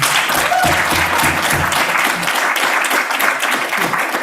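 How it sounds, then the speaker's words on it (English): Audience applause at an academic event on African politics, steady dense clapping throughout, with a faint voice briefly near the start. "she's still busy, she's clapping herself"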